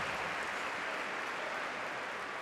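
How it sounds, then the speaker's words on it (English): Fans at a women's volleyball match between Japan and Turkey give steady, encouraging applause that fills an indoor arena as a dense, even wash of clapping. "Encouraging applause"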